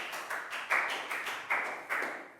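Children applauding in a classroom, a short burst of quick, irregular hand claps from a small group, fairly close and steady for a couple of seconds.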